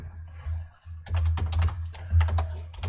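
Rapid typing on a computer keyboard while HTML code is written, a quick run of close, clicky keystrokes over a low background hum after a brief pause.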